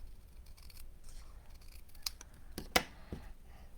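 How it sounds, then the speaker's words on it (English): Scissors snip a black cardstock frame for a handmade card in a few close, crisp cuts, with quiet paper rustling between them. "I'm going to cut this just a tiny bit more here."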